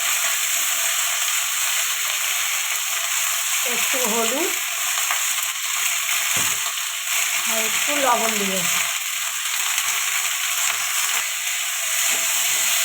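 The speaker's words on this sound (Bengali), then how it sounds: "এবার ওই তেলে বিন কড়াইটা ভেজে নেব।" Beans sizzling in hot oil in a wok, a steady broadband frying hiss with occasional stirring scrapes, while someone speaks over it.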